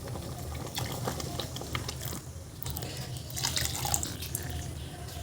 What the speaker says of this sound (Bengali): এবার প্রেসার কুকারটা ধুয়ে আমি এই জলটা দিয়ে দেবো।